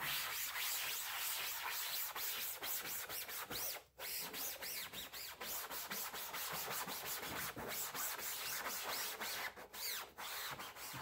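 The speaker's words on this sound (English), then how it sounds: "rub over my screen" Sponge loaded with Dawn dish soap rubbed back and forth over a screen, a continuous close wet scrubbing swish with rhythmic strokes and a brief pause, no voices.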